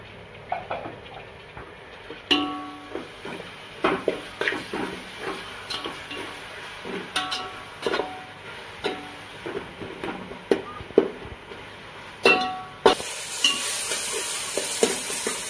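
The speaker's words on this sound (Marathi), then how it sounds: "आपण यात टोमॅटो टाकून घेऊया आणि भाजून घेऊया सगळं." Tomatoes with already-browned onions frying in a pan for egg biryani masala, a steady low sizzle broken by irregular clinks and scrapes of a stirring spoon, close up with no talking.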